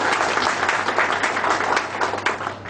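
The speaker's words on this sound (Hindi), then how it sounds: "उनके लिए मैं जबरदस्त तालियों से स्वागत करना चाहूँगी।" A seminar audience at a BNI business meeting in Korba, Chhattisgarh breaks into loud, dense applause, many hands clapping together in a steady burst without talk.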